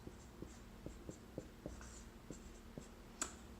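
Pen or pencil scratching out math working on paper in short repeated strokes with small taps between them, close and fairly quiet, no talking.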